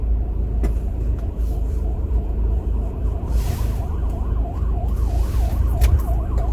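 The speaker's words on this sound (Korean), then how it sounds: "구급차가 지나가시네" An ambulance siren wails with a rising and falling tone over the low rumble of traffic, growing clearer toward the end as it passes.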